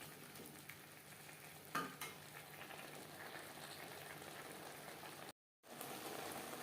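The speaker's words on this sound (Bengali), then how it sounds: "নারকেল ও মশলার সাথে চিচিঙ্গা বেশ ভালো করে মিক্সড করে দেবো।" Snake gourd being stirred in a pan with grated coconut and spices, with a steady soft sizzle and scraping throughout, one louder clank, and a brief cut to silence near the end.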